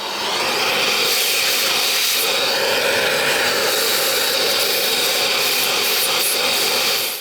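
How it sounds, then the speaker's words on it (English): A spot drill cuts into hard metal on a lathe, a steady dense grinding hiss that holds unbroken and fairly loud throughout with no voices. "the spot drill is cutting"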